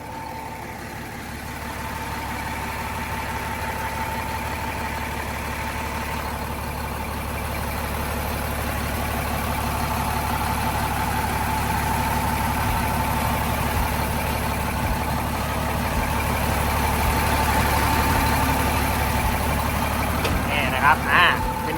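A Komatsu WA450-1 wheel loader's turbocharged engine runs at a steady idle, a deep constant drone with a droning hum that swells slightly toward the end, close by and continuous.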